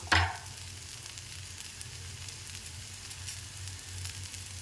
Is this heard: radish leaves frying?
yes